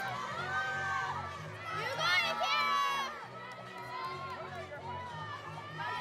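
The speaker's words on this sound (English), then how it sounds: "you'll hear all of the teams cheering on their next gymnast" Women's college gymnastics teams cheering on their next gymnast at a meet; bursts of high-pitched shouting and whooping from a crowd in a large hall, rising in the middle and settling into chatter.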